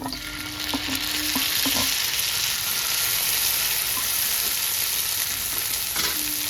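Chopped tomato goes into a pan with fried onion and curry leaves, giving a steady loud sizzle with a few scraping stirs and clinks early on, near and without talk.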